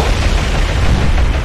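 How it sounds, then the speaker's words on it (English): Warship magazine detonating in the naval combat game War on the Sea, a loud sustained roar of explosion noise filling the whole stretch with no break, close and dense. "That was another magazine explosion, I would say."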